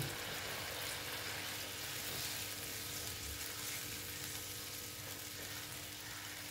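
Soya chunk kofta curry gravy nears a boil in a pot, giving a continuous, even bubbling hiss at moderate volume with no voices.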